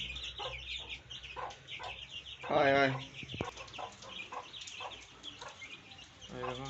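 Native hens cluck softly and repeatedly nearby, with one louder burst of clucking midway, among other fowl and under a low human voice.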